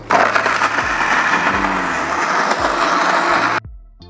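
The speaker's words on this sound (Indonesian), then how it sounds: "langsung tak blender ini bosku, tak kasih minyak langsung" An electric blender grinds candlenuts with cooking oil, a loud, dense, continuous whirring roar for about three and a half seconds before cutting off abruptly.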